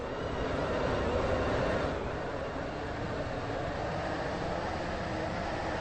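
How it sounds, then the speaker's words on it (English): A Stepford Connect train in the Roblox game runs steadily between Houghton Rake and High Street, its dense rolling rumble and hiss holding constant and close, a little louder in the first two seconds, with no voices. "Welcome on board this Stepford Connect service to Stepford Central."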